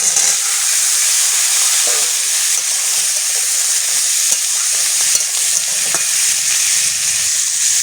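Vegetables, green chillies, bay leaves and dried red chillies fry in a hot pan with a loud, continuous sizzle and hiss, broken by a few faint stirring knocks, close up and with no voices.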